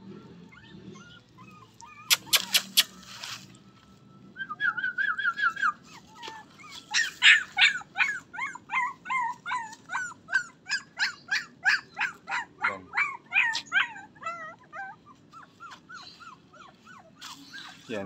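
A dog barks in a repeated, rhythmic run of sharp yelps and whimpers, starting with a few isolated barks and building into a steady series, fairly close and clear over a low background rumble.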